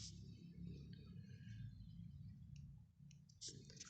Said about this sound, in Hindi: उसके बाद ऐड पे क्लिक करना है।